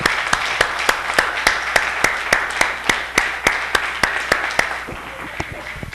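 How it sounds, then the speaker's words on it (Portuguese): A church congregation applauding together at a service, steady rhythmic clapping in unison at about two beats per second, loud and full, with a faint murmur of voices underneath. "Aplauda o Senhor em nome de Jesus."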